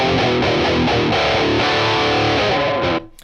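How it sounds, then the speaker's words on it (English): Distorted high-gain electric guitar riffs through a metal amp tone with the low knob turned fully off, thin and flat in the bass, loud and close, chugging chords ending abruptly near the close. "Obviously it takes out the low end and kind of makes it sound a little bit static and a little bit flat"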